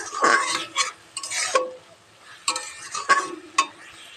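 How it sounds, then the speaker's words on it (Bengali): Paste of milk taro leaves being stirred in a pan, close scraping strokes in uneven bursts with faint sizzling between them and no talking. "এটাকে এইভাবে নাড়তে থাকবো"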